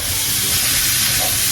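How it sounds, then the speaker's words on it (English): Bratwurst sausage links browning in a pan make a loud, steady sizzle and hiss that runs without a break. No one talks over it. "I'm just going to start browning these together"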